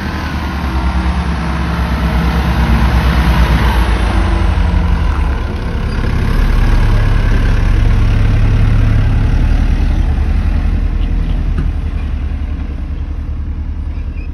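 Car engine running steadily and revving in loud, sustained surges while the vehicle tries to get unstuck from sand in the Hisma desert near Tabuk, Saudi Arabia, with a deep, continuous rumble close by.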